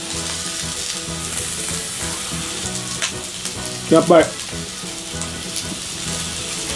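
Meat sizzling and frying on a small tabletop hot plate, a steady crackling hiss throughout with a brief louder burst midway and a voice speaking briefly.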